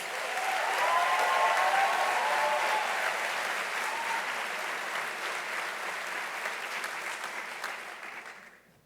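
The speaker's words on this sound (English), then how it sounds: "please applaud for Robert Kirkbride, the Dean of the School of Constructed Environments" An audience applauds the dean of the School of Constructed Environments at a Parsons recognition ceremony, a broad sustained wash of clapping that holds steady before fading out at the close.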